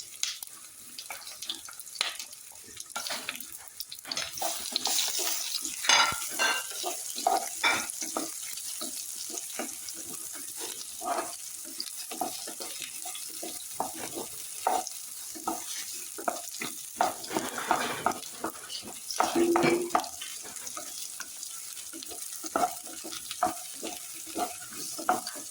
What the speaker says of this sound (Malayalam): നമ്മൾ ഈ അരിഞ്ഞു വെച്ച ഏത്തപ്പഴം നെയ്യിലിട്ട് ചെറുതായിട്ടൊന്ന്